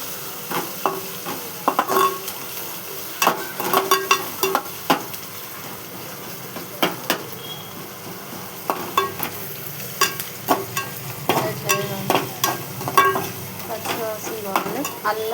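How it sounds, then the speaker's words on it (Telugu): Ginger paste and turmeric fry in a pan with a soft steady sizzle, while a spoon scrapes and taps against the metal in irregular stirring strokes, close and clear. "అల్లం, పసుపు వేసుకోవాక కొంచెం ఫ్రై అయినాక కొంచెం కలపాలి."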